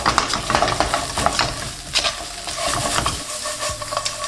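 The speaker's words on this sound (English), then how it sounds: "A bit more onions and spring onions, and give that a mix." Onions and spring onions are stirred in a hot pan with Cajun seasoning for chipotle fries. A loud, close sizzle carries through, with rhythmic scraping and clatter from the stirring and no voices.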